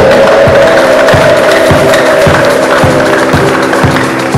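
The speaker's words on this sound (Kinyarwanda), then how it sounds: "Nikomera amashyi niba ubyumva neza" A church congregation claps in a steady, evenly spaced rhythm, roughly two beats per second, loud and close against a sustained murmur and hum of the crowd.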